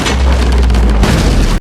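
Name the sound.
cannons firing in Assassin's Creed Brotherhood video game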